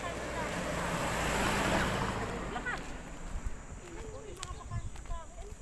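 Surf washing in at Mabini, Batangas, with a steady windy roar, swelling then easing, with some brief sounds in the background.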